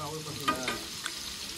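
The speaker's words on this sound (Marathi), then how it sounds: "आमची पहिली फोडणी आता पडले" A first tempering of spices hits hot oil in a home kitchen, a short soft sizzle and crackle heard close but fairly quiet, with a faint voice murmuring briefly in the background.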